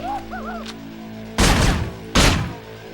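Two loud, close shotgun blasts from the video game Manhunt, about a second apart, each a broad burst that decays quickly, following a stretch of quiet ambience with faint chirping tones.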